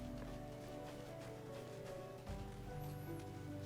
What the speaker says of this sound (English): It is raining a lot in Gridania.